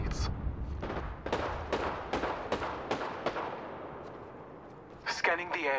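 Rapid bursts of gunfire in a shooter video game, a run of sharp, loud reports spaced roughly a third of a second apart, then a pause and a final closer volley.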